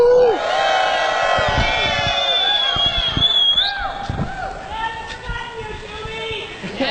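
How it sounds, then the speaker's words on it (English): A crowd at an outdoor clean-air rally in Pittsburgh cheering and whooping, with scattered shouts and voices rising and falling over several seconds. "can we get a huge cheer for our awesome friends who helped put this together?"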